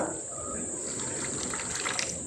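Water pours steadily into a bowl of lentils in a continuous splashy trickle, fairly close and moderately loud, with no talking.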